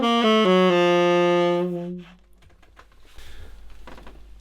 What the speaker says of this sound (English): If I play that on saxophone, it sounds like this.